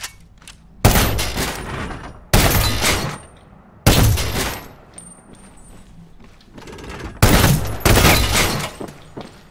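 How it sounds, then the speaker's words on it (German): Bursts of gunfire from weapons in the shooter game Medal of Honor Warfighter, several loud volleys of rapid fire separated by short quieter gaps with mechanical clatter, no talking. "Die Waffen Sounds sind nice."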